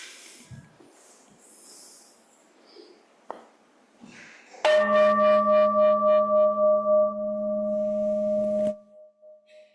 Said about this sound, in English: as we ring our bell and let the sound connect us